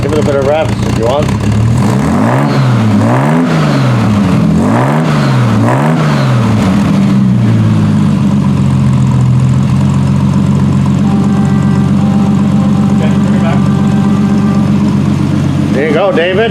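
A 1976 Triumph TR6 engine revs in repeated swells, three or four rising and falling blips close and loud, then settling into a steady idle hum.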